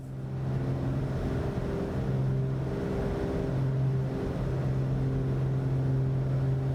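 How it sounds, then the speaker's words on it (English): Black Square Piston Duke twin piston-engine aircraft in the flight simulator MSFS 2024, its engines droning steadily with a firm low hum as power is added, continuous and fairly loud, no talk. "Gonna give it a little bit of engine power there."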